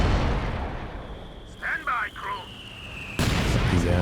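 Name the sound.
mortar fire in video game Company of Heroes 2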